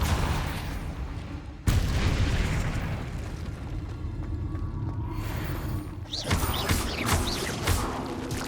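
A Depulso spell is cast during combat in the video game Hogwarts Legacy, landing as a sudden loud blast amid a run of booming, crackling magical impacts and bursts.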